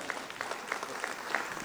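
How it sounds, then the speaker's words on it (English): A modest audience claps at a district cabinet installation ceremony, scattered hand claps fairly soft and steady over a low room hum, with no voices. "A round of applause for our"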